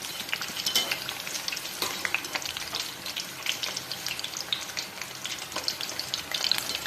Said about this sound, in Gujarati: આપણા મરચાં તળાઈને રેડી થઈ ગયા છે